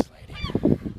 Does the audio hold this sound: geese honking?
yes